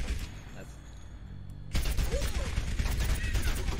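Gunfire in a shooter video game, a dense burst of rapid shots beginning partway through after a quieter stretch, loud and continuous, with a voice talking around it.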